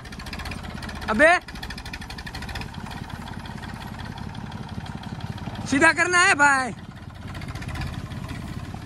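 A tractor engine idles steadily in the background at a farm where a load is being unloaded during sugarcane season, with a low continuous chugging under people talking and shouting.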